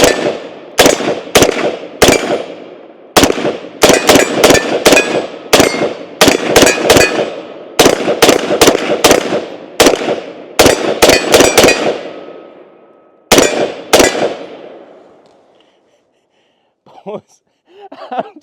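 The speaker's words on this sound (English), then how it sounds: "Good looking rifle overall, so let's go ahead and take a few rounds through it." A CMMG BR47 rifle, which takes AK-47 magazines, fires about twenty loud, sharp shots in quick irregular succession, some in close pairs, then stops; faint movement and a brief voice follow near the end.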